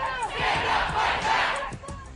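A large crowd of protesters in Boston, a loud, continuous mass of voices shouting and chanting together outdoors, sustained for the whole short stretch.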